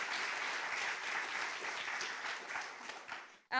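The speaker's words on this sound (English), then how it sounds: "Yes, you can applaud to an amazing accomplishment." An audience applauds at a public literary talk, a dense, steady wash of clapping that carries on for a few seconds before stopping abruptly.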